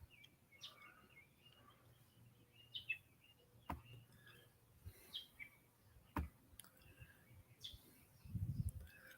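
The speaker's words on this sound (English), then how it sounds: "You got the red-winged blackbird chirping in the back, doing their little cadence call" Quiet backyard ambience with distant red-winged blackbirds giving repeated short chirps and cadence calls, scattered sharp clicks and a brief low thump near the end, no voices.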